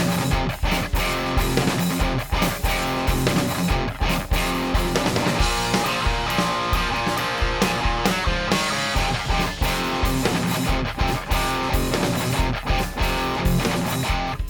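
Electric guitar with a rock tone, slight gain boost and EQ pedal, plays a continuous dense riff with steady rhythmic picking, loud and close, with no talk over it.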